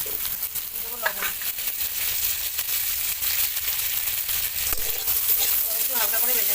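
Drumstick, papaya and green banana fry in a pan, giving a steady sizzling crackle with occasional stirring scrapes and clinks, close and continuous.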